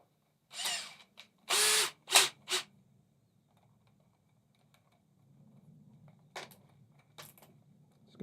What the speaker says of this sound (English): So let's drill some holes in there.